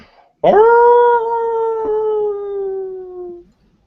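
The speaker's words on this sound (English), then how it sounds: "It sounds similar to the howl you heard before" A single long howl, played as a sound effect, rises sharply and holds with a slowly falling pitch for about three seconds before cutting off, loud and alone, as if from deep in woods.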